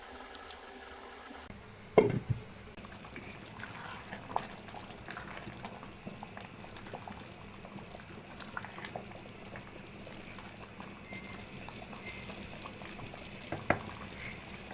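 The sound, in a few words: hot water poured into cooking beef liver bhuna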